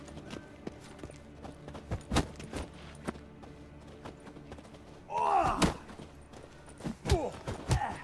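Horse hooves clip-clopping amid sword fighting in The Witcher 3, with irregular thumps and clanks and a burst of metallic clashing midway, fairly close and moderately loud.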